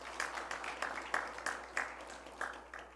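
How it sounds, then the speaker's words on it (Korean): An audience applauds at a Korean Methodist church worship service, steady clapping with soft rhythmic peaks, moderately distant and quiet, with a faint voice under it. "박수 한번 부탁드리겠습니다"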